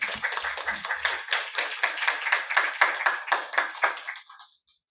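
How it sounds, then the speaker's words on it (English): Applause at a public colloquium on transdisciplinary social development, with a modest audience clapping in a steady rhythm for about four seconds before it tapers off to silence. "let us all give a round of applause for Dr. Jose Joel P. Canuday."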